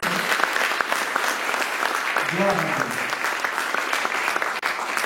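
Warm applause from a church congregation, steady clapping filling the room while a voice speaks over it.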